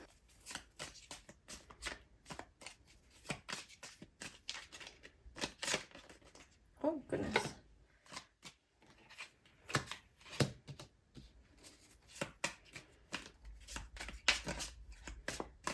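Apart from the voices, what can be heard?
shuffling tarot cards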